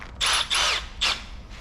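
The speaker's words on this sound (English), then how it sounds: "So we're going to drill us a nice 3/8 hole." A power drill spins up in three short high-pitched bursts, close and loud, as it starts a 3/8 inch hole in metal with cutting oil, with brief pauses between the bursts.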